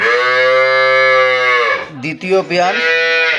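A Holstein Friesian dairy cow moos loudly and close by, one long low call that breaks into a second, wavering bellow.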